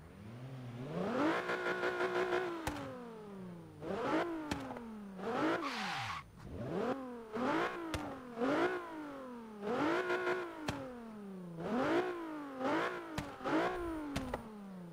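A Nissan 370Z in Forza Horizon 3 revs repeatedly, its engine note climbing in quick sweeps and dropping back between pulls, loud and close with a slightly rough, raspy edge.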